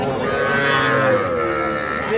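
A young bull calf at Raniganj cattle market gives one long, loud, wavering moo close by, against a faint background of market noise.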